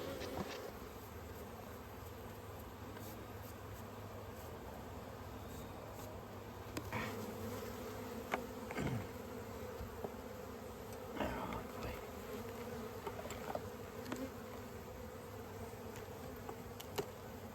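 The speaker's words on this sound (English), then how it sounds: "As he's brushing off the bees" Honeybees hum in a steady, faint buzz during an autumn beehive check, with occasional soft clicks and handling noises over the drone.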